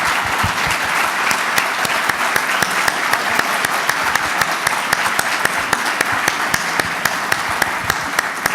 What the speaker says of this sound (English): can I have another big round of applause for Gabby Douglas?